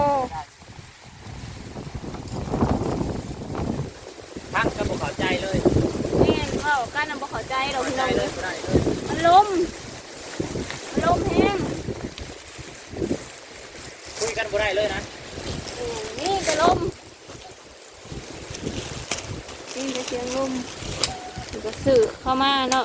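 Wind buffets a microphone outdoors at a straw mushroom growing plot, making a steady rough rumble that runs beneath almost continuous talking.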